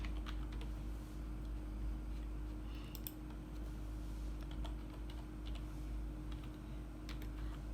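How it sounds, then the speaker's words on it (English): Computer keyboard typing as registration details are entered on a website, a quiet run of irregular key clicks over a steady low hum, with no talk. "So just type that in."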